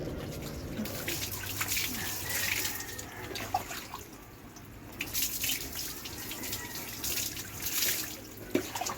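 Water runs steadily from a tap while pet dogs are bathed, a close, continuous splashing rush with occasional drips. A voice speaks quietly beneath it at times.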